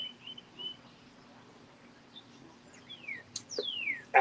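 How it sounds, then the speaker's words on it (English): Scattered bird chirps and a few sharp tweets ring out against a quiet outdoor backdrop, growing busier toward the end. "You can probably hear the birds chirping."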